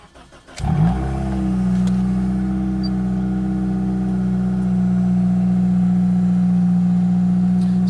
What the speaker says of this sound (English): So this one most likely has an exhaust leak somewhere.